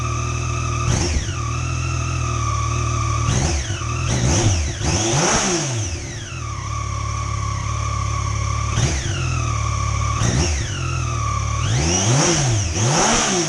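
A small-sounding Yamaha FJ-09 motorcycle engine with stock exhaust runs steadily, with several throttle blips that rise and fall in pitch, sounding thin and buzzy, with no talking.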